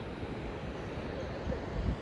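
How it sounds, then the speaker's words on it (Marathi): Sea waves roll onto the Konkan coast as a soft, steady wash with some wind noise, swelling slightly near the end and heard at a distance. "लाटा."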